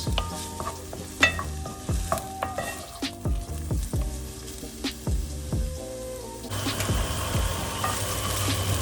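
Onions sizzle steadily in a hot frying pan while a utensil stirs and scrapes them, with sharp clicks and taps throughout, the sizzle swelling near the end.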